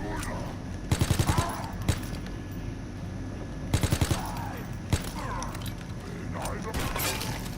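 Bursts of Type 100 submachine gun fire from a World War 2 zombies video game, two rapid rattling volleys each followed by a single sharp shot, set against a constant droning game ambience.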